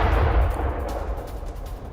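Missile attack on Kalantari port in Chabahar, a heavy, booming explosion rumble that rolls and slowly fades over about two seconds.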